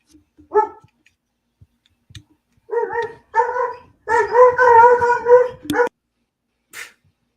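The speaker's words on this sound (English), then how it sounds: "Malcolm's dog is really upset." A dog yips once, then lets out a run of drawn-out, wavering howls and whining cries, ending in a sharp bark and a faint final yelp, loud and close.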